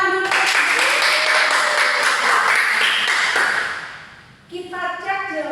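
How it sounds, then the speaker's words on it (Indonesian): Students in a maths class applaud with a few seconds of scattered hand clapping that fades out, then a voice begins speaking. "Oke, tepuk tangan dulu."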